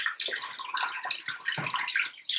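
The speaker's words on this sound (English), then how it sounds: "so washing them for 20 seconds in soap itself, as I'm doing now, is really important" Hands are washed with soap under warm running tap water, a steady close splashing hiss with small bursts of spatter as the hands move through the stream, with no talk.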